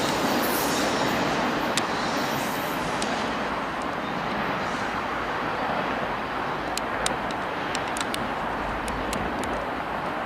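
A long BNSF intermodal freight train of 117 cars rolls past in Riverside, California, a loud, steady rumble of wheels on rail with occasional squeals and clanks near the end.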